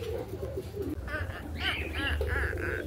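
A crested pigeon at a bird sanctuary gives a series of soft, repeated coos, growing stronger toward the end, with a voice faintly present in the background.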